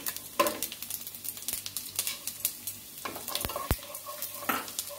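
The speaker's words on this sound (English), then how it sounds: "You can see that the Zeera has started to splutter" Whole spices and cumin seeds splutter in hot oil, close up, with irregular sharp pops and crackles over a low sizzle, some louder bursts standing out, and no voices.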